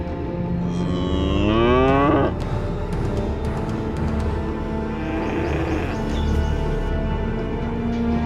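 A cow separated from its calf lets out one loud, drawn-out moo close by, its pitch rising and then breaking off, followed by steady background noise with no further calls.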